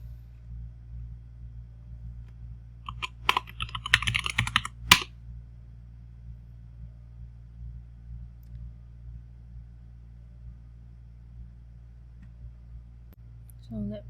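Quick bursts of keystrokes on a computer keyboard as an account name is entered into a Gmail sign-in screen. The clicks are close and crisp, lasting about two seconds, then give way to a low steady background hum.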